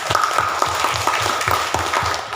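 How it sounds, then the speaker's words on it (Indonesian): Crowd of educators clapping at an education office address in Banggai, Central Sulawesi, a brief burst of steady, fairly close applause with individual claps distinct. "Mari kita berikan tepuk tangan untuk tugas kita."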